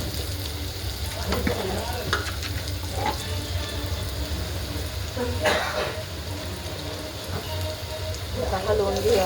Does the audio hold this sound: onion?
yes